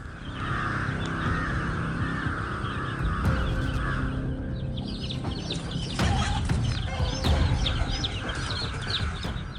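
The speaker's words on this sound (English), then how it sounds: "the mother hens are leading their small chicks foraging for food" Hens cluck steadily while small chicks peep in quick, high chirps over a busy, continuous outdoor backdrop.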